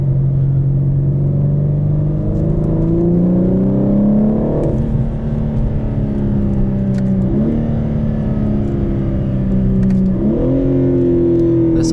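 A 2021 BMW M4 Competition RWD driven with an automatic gearbox, heard from inside: a loud, steady engine drone climbs in pitch, then drops sharply at each upshift, about three shifts in a row.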